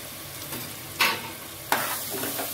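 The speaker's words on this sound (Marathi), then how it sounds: "टोमॅटो छान मेल्ट झालं की त्यात रवा ऍड करायचे, लापसी रवा।" Lapsi rava semolina is sautéed in a pan with melted tomatoes, a soft continuous sizzle broken by two sharp scraping stirs of a spatula, close by with no talk.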